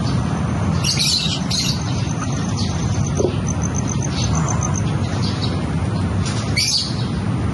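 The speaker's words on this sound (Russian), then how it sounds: "Там наш попугайчик сидит" Pet parrots kept at home chirp and tweet in short high bursts over a constant loud hiss of background noise, fairly close and intermittent.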